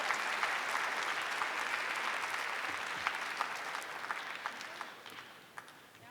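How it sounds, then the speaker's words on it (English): Audience applause at a CSEdWeek kick-off event honouring a panel, a dense patter of many hands clapping steadily before tapering off toward the end. "One more round of applause for our panelists."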